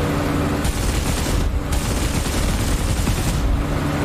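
Aircraft machine guns blaze in long, dense bursts in the DCS World flight simulator, recreating a 1942 dogfight over Malta, loud and close with a brief pause midway.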